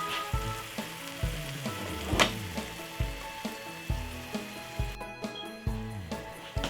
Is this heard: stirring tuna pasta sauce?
yes